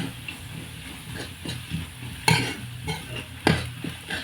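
Chicken roast masala being stirred and sautéed in a pan over a wood-fired stove, a steady close sizzle broken by scraping stirs, with two sharper clatters of the spoon against the pan.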